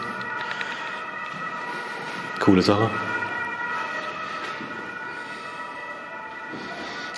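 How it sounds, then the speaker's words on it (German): An ambulance transport vehicle's siren wails steadily in the background near a former fire brigade school, with a brief louder burst partway through, while a person talks over it. "Oder halt diese Krankenwagentransporter, was man jetzt auch gerade hört."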